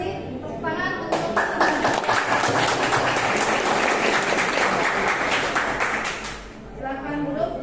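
A classroom group claps in sustained, dense applause for several seconds, fairly loud and close, tapering off near the end as voices talk over it.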